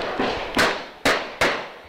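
Gunshots from a daytime shootout between drug traffickers on a hillside neighbourhood in Vila Velha, Brazil: three sharp, loud reports spaced about half a second apart, each with a brief echoing tail.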